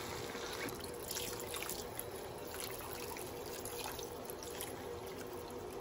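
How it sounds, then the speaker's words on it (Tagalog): Water pours steadily into a cooking pot of pork ribs, a continuous splashing rush, close and fairly even, with no voices. "Lalagyan na natin ng tubig yan. Ayan, lagyan natin ng tubig."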